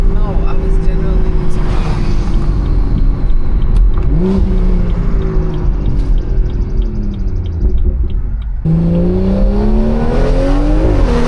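A tuned Stage 2+ BMW 340i engine drones loudly from inside the cabin, its pitch climbing as it accelerates under boost and then rising again after a shift, while people chat over it.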